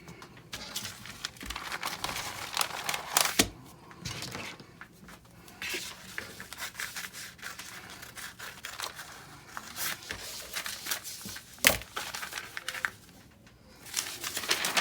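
Scissors cut out a paper sewing pattern up close, with irregular snips and paper rustling and crinkling in short bursts separated by brief pauses.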